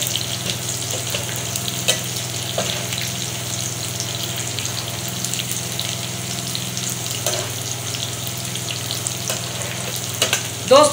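Chilies fry in hot oil for a chana dal tadka, a steady close sizzle with scattered crackles and stirring clinks over a low kitchen hum, building to a louder burst of spitting at the very end; no one talks.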